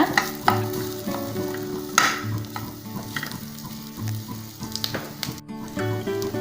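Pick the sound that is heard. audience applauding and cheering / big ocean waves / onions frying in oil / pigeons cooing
onions frying in oil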